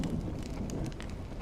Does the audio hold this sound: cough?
no